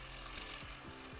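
Chopped onions sizzle and fry in a hot kazan for Kazakh kuyrdak, a steady close crackle with faint stirring scrapes, no voices.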